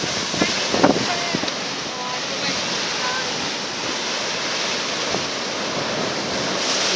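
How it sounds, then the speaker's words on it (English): Big ocean waves crashing against sharp rocks, a dense, loud roar of surf and spray close by with wind buffeting the microphone and a brief vocal exclamation near the start. "Look at them waves."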